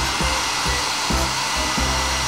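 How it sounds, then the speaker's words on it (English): A sneaker dryer in a cartoon blows a loud steady rush of air, a constant hair-dryer-like roar with low rhythmic pulses beneath, and no talking. "Time for Super Sneaker drying"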